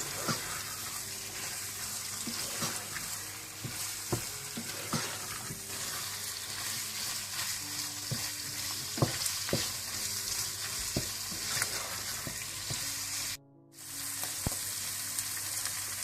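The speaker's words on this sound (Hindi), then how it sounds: "आप इसमें बोनलेस चिकन डाल दें और इसको भी आप अच्छी तरह से भून लें" Boneless chicken frying in tomato puree for chicken pasta, a steady close sizzle with scattered stirring scrapes and clinks, briefly cut near the end.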